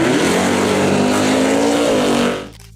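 A 1968 Ford Mustang Cobra Jet 428 big-block V8 runs with a loud, deep engine roar that holds steady, then fades out over the last half second.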